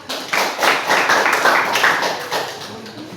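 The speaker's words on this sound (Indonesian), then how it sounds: "Silakan tepuk tangan." A short burst of clapping from a small group of students in a junior high school classroom, rapid and fairly close, rising quickly then tapering off over a few seconds.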